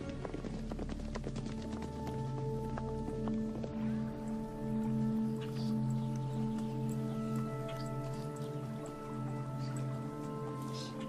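Wild horses gallop with a rhythmic clip-clop of hooves, heard beneath a steady background of sustained musical tones.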